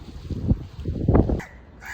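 Harsh bird calls, a few loud squawking caws in quick succession, fairly close, over outdoor background noise with no talking.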